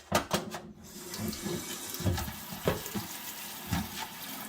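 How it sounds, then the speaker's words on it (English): A kitchen sink tap runs as sage leaves are rinsed under a spray nozzle, a steady rushing splash with gurgles and shifting spatters, close and constant, no one speaking. "I'm going to turn my sink on, and I'm just going to use my nozzle and give them a light rinse."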